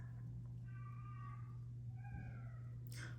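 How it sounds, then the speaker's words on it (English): A cat in heat lets out two drawn-out, wavering meows over a low steady hum, the second slightly shorter, with a brief bright noise at the end. "And that is my cat in heat."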